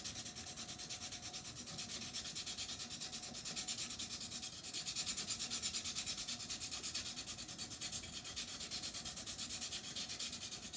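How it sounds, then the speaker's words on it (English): A woodcarving gouge is rubbed back and forth on a sharpening stone in steady, rhythmic strokes, a soft gritty scraping repeating evenly and close by with no talking. "this is actually making the stone the shape of the gouge"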